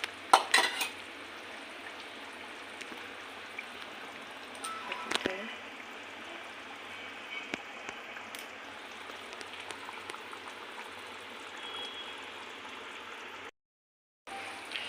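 Spice masala mixed with sour yogurt sizzles in oil in a pan for a tangra fish curry, a steady close hiss broken by occasional clinks of stirring, with a brief silent gap near the end.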